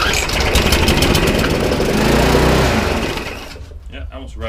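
An untested lawnmower engine in need of repair starts and immediately revs hard, a loud, rough, sustained roar that eases off toward the end.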